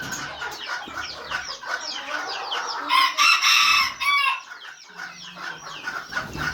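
Chickens cluck inside a farmyard coop while a young rooster crows loudly partway through. The clucking continues steadily nearby, with no one talking.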